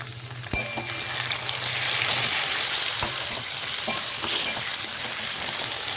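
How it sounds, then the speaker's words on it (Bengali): Potatoes already fried reddish sizzle loudly in a pan after ginger-tomato paste is added for a papaya curry. A sharp initial hiss settles into a steady crackling fry with occasional stirring taps. "আলু লাল লাল করে ভাজা হয়ে গেছে এইবারে এর মধ্যে দেব আদা টমেটো বাটা"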